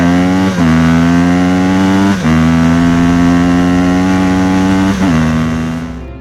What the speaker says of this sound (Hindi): तभी बाबा और बुल्ली बाइक लेकर वहां पर पहुंचते हैं।